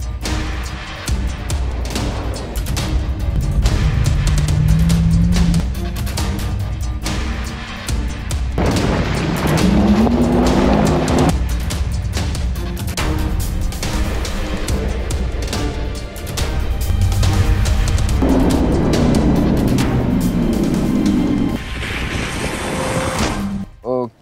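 An electric Porsche Taycan Sport Turismo drives on a road in Sport Plus mode, loud and close, with repeated rising whines as it accelerates through speeds.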